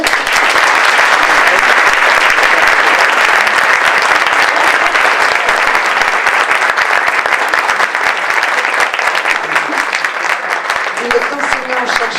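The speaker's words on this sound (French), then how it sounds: "je vous demande de l'applaudir" Audience applause for a mathematician at a talk on quantum fields, a loud, dense, sustained clapping from a large crowd that keeps up its intensity throughout, with faint voices near the end.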